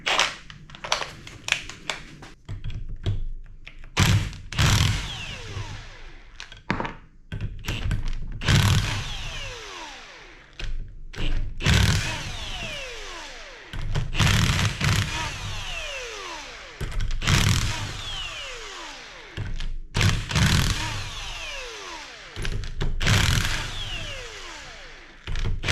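Old ring gear removed from a Jeep TJ Wrangler 1997 Dana 35 differential with an impact tool, repeated loud bursts of rattling hammering separated by short pauses, harsh and close, with no talking.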